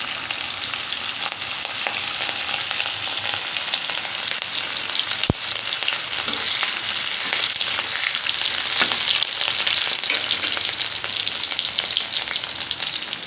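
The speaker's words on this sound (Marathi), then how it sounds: "तेल आपलं चांगलं कडकडीत झालेलं आहे, त्याच्यामध्ये टाकूया" Green chillies frying in a kadhai of very hot oil, a loud dense crackling sizzle that runs steadily throughout with one sharp click partway, near and with no voices.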